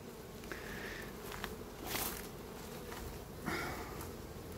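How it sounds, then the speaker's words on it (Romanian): A steady insect buzz hums near and far, several robber bees droning together at a hive, with brief louder passes swelling over the constant background hum. "Acea albină, iată, aceea este albina hoață."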